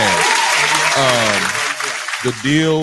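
Podcast hosts clap in the studio, the claps mixed under loud, overlapping voices talking and exclaiming throughout the short burst.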